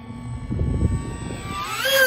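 A modded FT Spear model airplane makes a low pass outdoors, its electric motor and propeller buzzing in a steady drone that rises in pitch and loudness toward the end as it sweeps close, with wind noise underneath.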